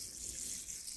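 A flower bed border in a garden is watered at dusk, giving a soft, steady hiss of spraying water that stays faint and even throughout, with no talking.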